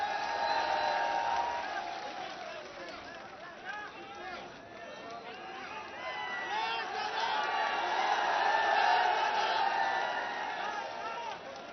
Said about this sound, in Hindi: जोरदार तालियों से इस्तकबाल